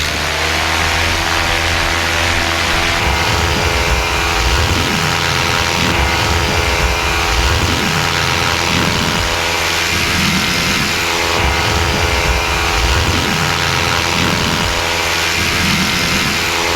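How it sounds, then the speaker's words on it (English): A paramotor engine runs loud and steady as it takes off from the grass beside runway 23 at an airport, a continuous buzzing drone that stays up close throughout with slight swells in pitch. "paramotor departing parallel to runway 23 in the grass"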